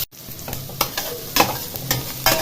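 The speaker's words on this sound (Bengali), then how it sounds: "দুটো শুকনো লঙ্কা দিয়ে দিলাম, পেঁয়াজ কুচিগুলো ছেড়ে দিলাম।" Chopped onions and two dried red chillies sizzling in hot oil for a dhaba-style tadka, a steady close frying hiss punctuated by several sharp scrapes of stirring, with no talking.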